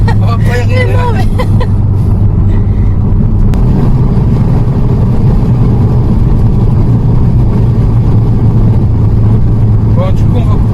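A VW Golf 5 GTI engine drones loud and steady throughout, heard from inside the car, with a brief voice and laughter near the start and end.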